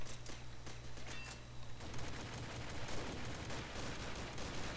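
Rapid fire from a G36e rifle in the video game Combat Arms, a steady dense stream of shots alongside other gunfire, loud and continuous with a brief change in texture partway through.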